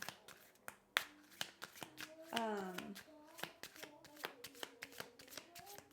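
A deck of playing cards is shuffled up close, with crisp taps and snaps and a quick fluttering riffle in the middle.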